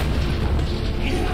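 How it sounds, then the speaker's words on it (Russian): A grenade explosion in the World War I game Valiant Hearts: The Great War gives a loud, close, dense boom that fills the whole short moment with low rumbling noise, without talk. "Держи, фашист, гранату."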